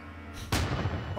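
In Luigi's Mansion 3, a cannon fires a cannonball: a sudden loud boom that lands partway through, after a soft rising whoosh, then rumbles and decays.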